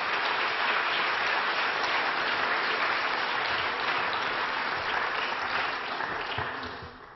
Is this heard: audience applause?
yes